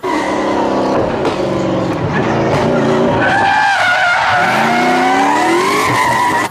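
Toy race car sound effect: a loud, continuous engine whine with rising and falling pitch, tire squeals and skids, steady and close throughout with no talking.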